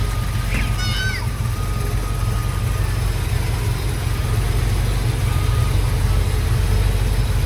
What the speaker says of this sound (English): Listen to that engine power.